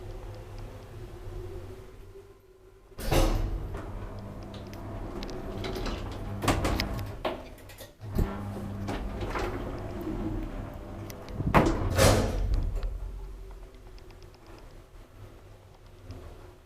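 Inner doors of an old Semag traction elevator in Helsinki slide and clatter, with several loud mechanical bangs and rattles over a steady machinery hum in an enclosed lift car.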